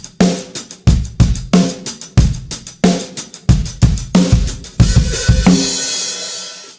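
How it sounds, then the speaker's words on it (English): Drum kit plays a groove, the hi-hat kept with one hand, giving tight, even strokes with punchy kick and snare hits, ending in a ringing cymbal crash, loud and close with no speech. "The hi-hat being played with one hand."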